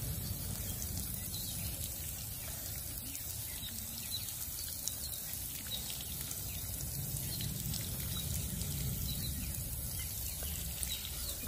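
Water is sprayed over a purple cabbage garden bed as a steady, continuous hiss, even and unbroken for the whole stretch with no talking.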